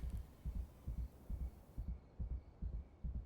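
In the Schedule I video game, a rapid heartbeat pounds in low paired thumps, about one per half second, steady and fairly loud over a soft hum, with no voices.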